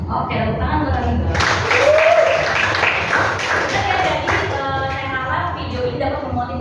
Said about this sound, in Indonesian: Oke, tepuk tangan buat Anita.